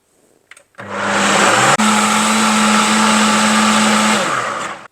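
A wet grinder grinding matta rice for dosa and idli batter starts up loudly, settles into a steady whirring hum with a brief pitch shift, then winds down near the end.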